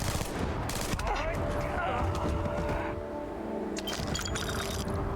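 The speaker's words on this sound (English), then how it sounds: "Sometimes they're explosive, the shots, and that's fun." Rapid bursts of gunfire from an extended-magazine drum gun in the Starfield video game, some shots sounding explosive, crackling loudly and continuously under game sounds and a talking voice.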